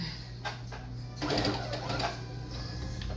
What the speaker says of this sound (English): Sew it like this, start it where it's supposed to be